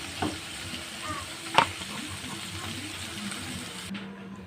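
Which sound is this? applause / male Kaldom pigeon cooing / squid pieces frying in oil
squid pieces frying in oil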